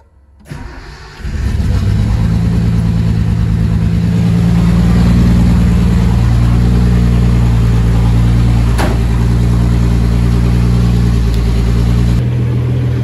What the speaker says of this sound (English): Car's been running for a few minutes now.